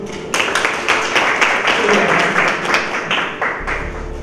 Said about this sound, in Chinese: 大家鼓掌欢迎。